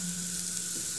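Vegetables fry in a pan with a few drops of oil, giving a steady low sizzle under a faint hum, then a brief sharp crackle right at the end; no voices.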